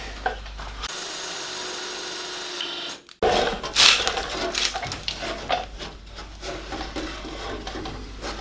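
A drill bores out spot welds on a Morris Minor body panel, whining steadily before a brief cut-off, then grinding and scraping at close range with metallic rattles.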